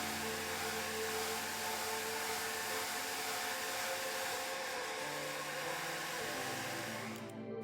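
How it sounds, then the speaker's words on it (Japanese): A hair dryer blows steadily over a watercolour-pencil night-sky painting, a constant whooshing hum with a motor whine that shifts slightly in pitch and cuts off right at the end; fairly quiet and with no talking. "画面の方はドライヤーで乾かします。"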